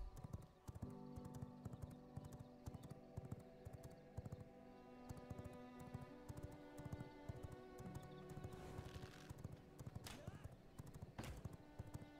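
Horse hooves clip-clop in a steady, rapid rhythm in the video game Vampire Rising, quiet and continuous over a sustained musical drone.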